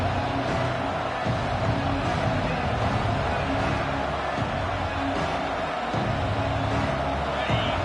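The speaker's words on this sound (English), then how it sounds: "This crowd trying to make life miserable for this offense." Stadium crowd noise in a football video game: a steady, dense roar of many voices that holds at an even loudness throughout, with no clear peaks or breaks.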